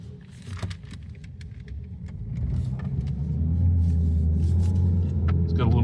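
A Ford Focus with a transmission shift hesitation pulls out onto the road, its engine rumble and road noise building steadily as it gathers speed, heard from inside the car with light rattles.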